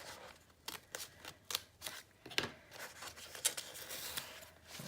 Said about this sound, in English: So I'm just going to trim away some of this.